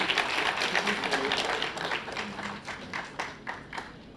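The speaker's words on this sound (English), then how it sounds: "Give the Minister a warm round of applause" Audience applause for a Minister at a parliamentary committee session, a steady patter of many hands that thins out toward the end with a few louder claps standing out.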